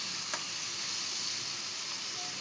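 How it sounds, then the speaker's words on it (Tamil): Oil sizzles in a cooking pan as it is stirred, a steady close hiss, quiet and unbroken, with no talking. "எண்ணெய் ஊற்றி கிண்டி விடுங்கக்கா, கிண்டி விடுங்க"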